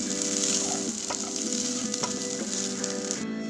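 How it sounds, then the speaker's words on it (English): Onions and garlic fry and sizzle in a pan for a mushroom masala, a steady close hiss with occasional scraping stirs, no talking. "I'm now going to stir this well for another minute."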